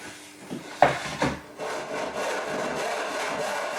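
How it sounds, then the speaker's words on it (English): A few knocks on wood, then a steady rasping scrape of a hand saw cutting through a board, close and continuous. "I will saw this off."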